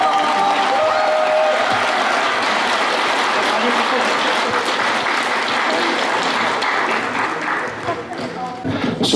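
An audience at a nativity play performance applauds loudly and steadily. Dense clapping fills the room and fades slightly toward the end.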